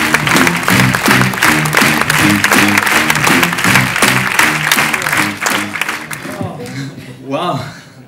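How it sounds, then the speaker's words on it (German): Loud, dense audience applause for a comedian on stage fills the room steadily for several seconds, then thins out, and a voice comes in near the end. "Applaus!"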